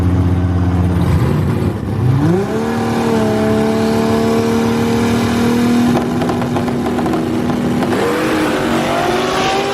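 A race car at a drag race, likely the 2JZ-engined car, accelerates loud and close, its engine note climbing through gear changes in rising surges with no talk.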